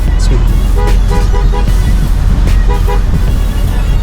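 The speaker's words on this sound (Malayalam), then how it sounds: "ഇതാണ് ഹോണിൻ്റെ സൗണ്ട് വരുന്നത്" A new Hella aftermarket horn fitted to a Toyota Innova Hycross honks in several short bursts, loud and close, over a constant engine rumble.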